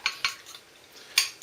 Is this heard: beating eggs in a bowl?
yes